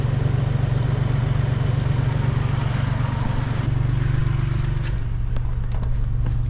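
An off-road vehicle's engine runs at high RPM on a wet, muddy trail in Arizona, a loud steady droning hum that drops somewhat partway through, followed by a few light knocks.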